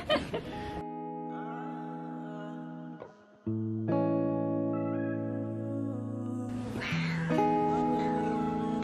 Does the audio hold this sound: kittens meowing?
yes